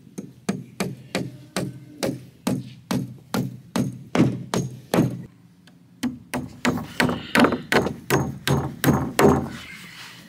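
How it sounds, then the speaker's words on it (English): Hammer blows nailing new boards onto a wooden corral wall, a steady run of sharp, loud strikes about two per second, pausing briefly midway before resuming at the same rhythm. "Get them hammered on."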